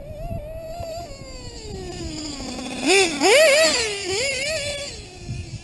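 A modified Rex 28.8 nitro engine with a 41032 header in an older RC buggy revs hard, rising and falling in sharp, loud bursts over a steady high-pitched whine.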